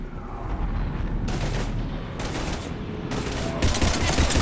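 Sustained automatic gunfire in the Mass Effect 3 shooter during a fight with husks: close, loud bursts repeating in quick succession, with heavier blasts near the end and no talking.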